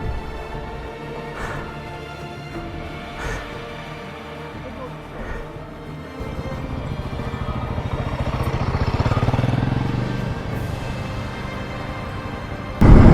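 Motorcycle engine working up a steep offroad trail climb, a steady mid-pitched drone that builds louder around the middle under ongoing talk from riders.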